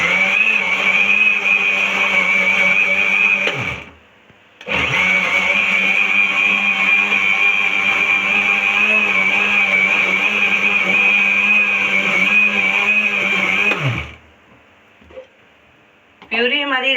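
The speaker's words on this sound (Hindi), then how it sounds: "मैंगो छील के अच्छी तरह से तो इसकी प्यूरी बनाएंगे।" A kitchen blender purees peeled mango in two long bursts: a loud, steady high-pitched whir that cuts off briefly near the start and stops again near the end, leaving a short quiet gap before a faint noise.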